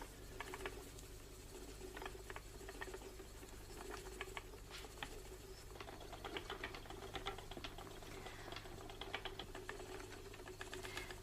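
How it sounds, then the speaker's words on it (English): A wooden spinning wheel twists wool into one long thread, giving a steady, close run of soft clicking and tapping over a low continuous hum, with no voices. "The spinning wheel twists the wool to make one long thread."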